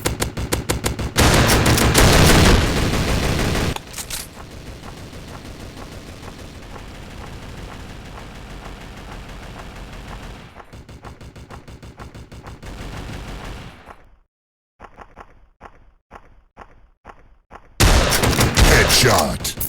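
Shotgun blasts in a video game boom out in loud bursts, one after another, with rapid sharp reports clustered near the end and brief quiet gaps between volleys.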